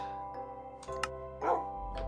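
Wolf barking in the Minecraft video game: a few short, close bark-like bursts spread over two seconds above a steady game background with chime-like tones.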